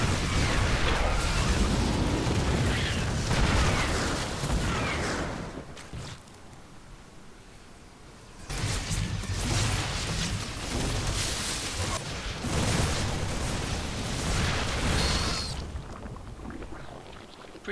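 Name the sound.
StarCraft II video game battle, roaches attacking tanks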